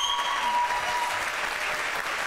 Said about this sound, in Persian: گروه شما رو تشویق کنید.